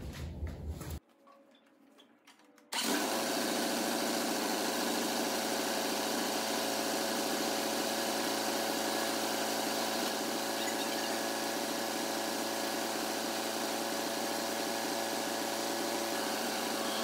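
An Allis Chalmers 175 tractor engine cranks briefly, catches and settles into a loud, steady idle that drones on with no voices.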